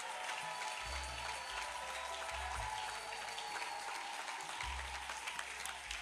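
A church congregation applauds Jesus during a pastor's service, a continuous distant patter of clapping hands over low sustained musical tones.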